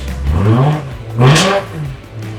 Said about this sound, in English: I did air intake so you can really hear the motor, especially when it gets up in the rev range